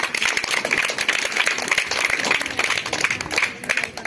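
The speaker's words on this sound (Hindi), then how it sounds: "चलो तालियां।" A crowd of village children claps together in dense, continuous applause, loud and close, with faint voices mixed underneath throughout.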